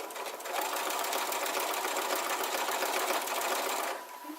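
Close sewing machine running a quick seam with a walking foot, a steady rapid stitching whir that starts up, holds evenly for about three and a half seconds, then stops.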